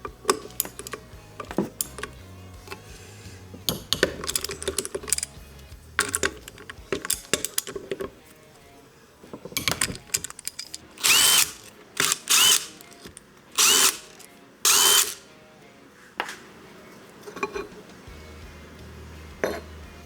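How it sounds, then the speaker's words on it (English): Torx 40 bolts being backed out of a bearing retainer on a Toyota W56 manual transmission, with short whirring bursts from a power driver among clicks and metal handling, close by. "bolts that hold this retainer on are a Torx 40, and we're just gonna take them off"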